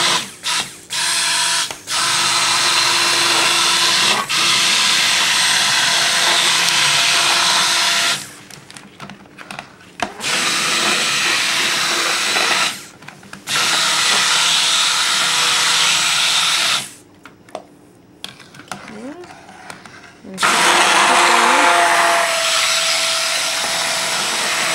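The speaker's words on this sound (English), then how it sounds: "now I'm going to start to stick blend it and see if we can get this to go to trace here" A handheld stick blender whirring through a homemade natural-ingredient soap mixture, running in several long, loud bursts separated by short pauses, with the motor whine holding steady during each run.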